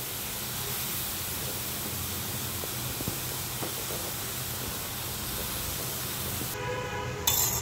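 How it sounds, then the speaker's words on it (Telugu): Grated carrot fries in ghee in a pan, giving a steady, even sizzle and hiss that runs unbroken throughout, with a slightly sharper flare near the end. "క్యారెట్ అనేది ఫ్రై అవుతున్నప్పుడే కొంచెం మరొక 2 టేబుల్ స్పూన్స్ నెయ్యి అనేది వేస్తున్నాను అనమాట"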